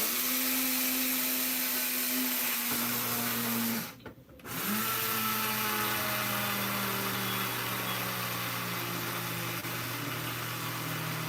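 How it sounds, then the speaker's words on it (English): A blender grinds seeds just short of turning them into a butter, a loud steady motor whine that drops out briefly partway through and then resumes at a shifted pitch. No talking. "So I'm grinding up some seeds."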